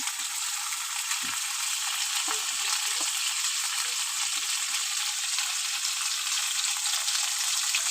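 Whole, uncut red amaranth leaves fry in a pan with a steady, even sizzle. A few soft stirring clicks come through the hiss, and no one speaks.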